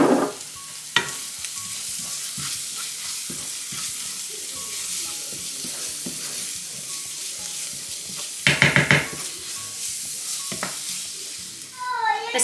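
Spices for Medan-style soto sauté in a pan, a continuous soft sizzle with scraping stirs and occasional clinks of a utensil against the pan, with a brief louder clatter partway through.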